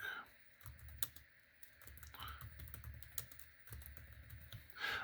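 Mouse and keyboard clicks sound close and dry while someone works on the Numista coin and banknote catalog site, with several sharp clicks scattered over faint background noise.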